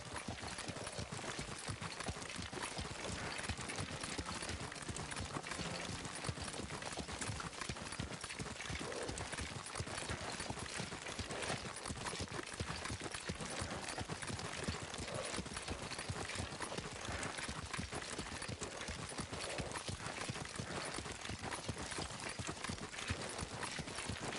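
Horse hooves clip-clop in a fast, steady rhythm throughout in the video game Ghost of Tsushima, close and continuous, like a horse trotting or cantering without pause.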